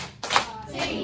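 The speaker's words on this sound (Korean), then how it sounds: "칭찬의 박수!" Children at an elementary church service clapping in praise, a short burst of quick, close claps that begins abruptly and continues in a brief ragged patter.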